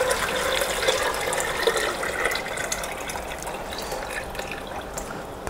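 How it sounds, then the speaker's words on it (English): Banga (palm nut) juice poured into a pot for Edo black soup, a steady broadband liquid splash and trickle running continuously at moderate level with no talking. "Next, I'll add the banga juice."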